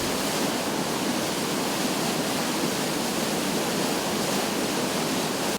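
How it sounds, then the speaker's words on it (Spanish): Water cascading down the stepped drops of an aqueduct channel feeding Mexico City, a dense, constant roaring rush with no breaks, close and steady throughout. "En estas llamadas caídas, se construyen escalones para que el agua que se aproxima por gravedad no llegue de golpe a la Ciudad de México"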